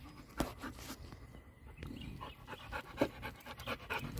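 A dog pants steadily and rhythmically at close range during a training session, with quick breathy huffs continuing throughout, occasional light collar or paw sounds, and no talking.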